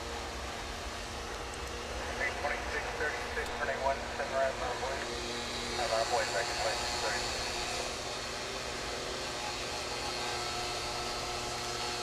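Heavy jet aircraft at DFW International Airport, a steady broad roar that stays loud for the whole stretch, with voices talking over it.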